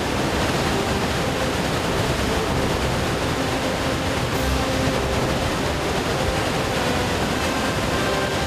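Khone Phapheng waterfall in Laos, a vast 300-metre-wide falls on the Mekong, roaring as a dense, constant broadband rush of water that stays steady and unbroken throughout.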